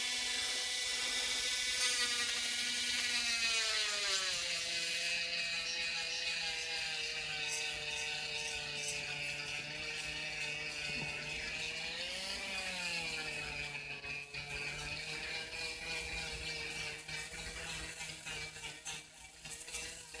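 A handheld rotary tool spins against an eggshell with a high whining buzz whose pitch sags and rises as the load changes. It is fairly quiet and continuous, with grinding rasps toward the end.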